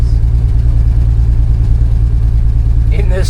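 The engine of an old Ford Econoline van runs with a steady, loud, low drone from inside the cab, and a brief voice is heard near the end.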